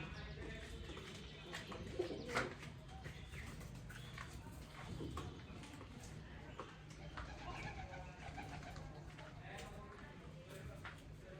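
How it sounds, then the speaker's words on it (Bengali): A pigeon chick recovering from pox coos softly and intermittently in the background while someone talks over it throughout, the bird sounds faint and partly masked by speech. "আমার এই যে কবুতরের বাচ্চাটি"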